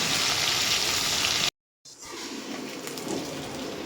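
Garlic, dried chili and black cumin frying in hot oil give off a loud, steady sizzle close up. It cuts out briefly, then returns a little softer.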